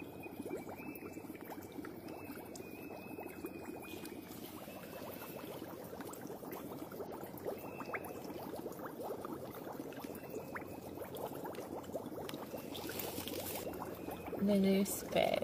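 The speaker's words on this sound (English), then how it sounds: "I've never seen or heard so much bubbling action in the ocean." Gas bubbling up through the ocean at Nanoose Bay, a steady fizzing, churning wash of water that runs unbroken and fairly close, with a speaking voice heard over it.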